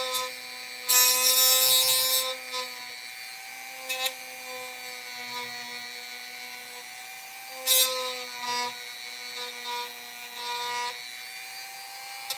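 A fret-cleaning tool on a Telecaster neck scrapes against masking tape in a few short, raspy bursts over a faint, steady ringing tone.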